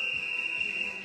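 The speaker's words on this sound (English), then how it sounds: "Wait for the whistle." A single sustained whistle blast signals the next interval of a Tabata workout, one steady, loud, high tone lasting the whole second with no talking.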